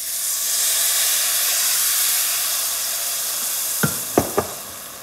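Vegetable stock poured into hot, golden-browned rice cooking alongside browned beef hisses loudly and steadily, swelling into a broad sizzle of steam before three quick metallic clinks near the end.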